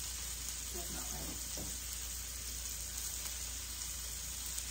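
Steady sizzling and crackling of beefalo meat frying in a pan, a constant hiss throughout, with faint voices briefly in the background.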